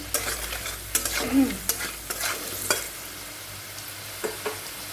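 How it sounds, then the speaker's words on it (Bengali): Potatoes fry in a pan with salt and turmeric while a spatula stirs and scrapes them, producing soft steady sizzling broken by several sharp scraping strokes. "আলুটা ভালো করে ভাজা হোক"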